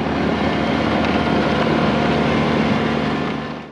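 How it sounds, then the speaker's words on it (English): Old Sportsman snowblower engine roaring steadily at close range as its lowered scraper bar clears packed snow from a driveway, a loud continuous drone fading slightly at the end. "lower the snowblower closer down to the driveway so it scrapes more off"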